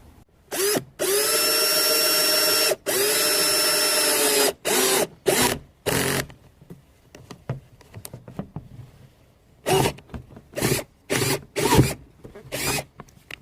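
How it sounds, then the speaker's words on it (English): A power drill whines at full speed in two long bursts while drilling a hole for a Subaru WRX intercooler water spray, then gives several short bursts with pauses between them. The drilling is close and loud. "So the next step is going to be to drill a hole right there."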